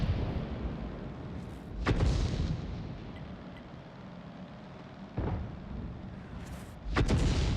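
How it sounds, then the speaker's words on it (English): Tank cannon shells firing in World of Tanks: three or four heavy booming shots spaced a few seconds apart, each a sharp loud blast with rumbling decay over a low battle hum. "firing as many shells as physically possible"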